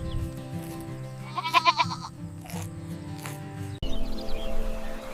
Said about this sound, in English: This is a young brown goat kid.